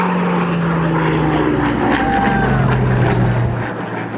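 An RAF Spitfire propeller fighter passes at an airshow, its engine droning loudly with a shifting pitch as it goes by.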